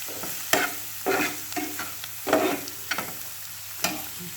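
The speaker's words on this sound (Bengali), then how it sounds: "এখন আমি সবটা একসাথে নাড়াচাড়া দিয়ে নিব।" Salt-seasoned shital dried fish being stirred in a frying pan, with intermittent scraping strokes of the spatula over a soft sizzle, close and fairly quiet, no talking.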